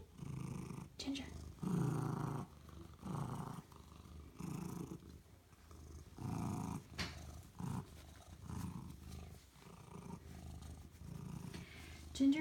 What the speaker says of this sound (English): She's a very loud purr also.